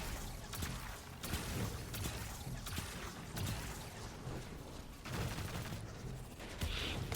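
Rapid bursts of gunfire from the Destiny 2 video game crackle continuously, with repeated sharp shots and volleys layered over a steady, busy game soundscape.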